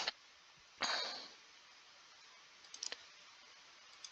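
Computer mouse clicks in LTspice circuit software: a sharp click near the start, a louder click around the first second, then a quick cluster of faint clicks later, all close and isolated against a quiet background.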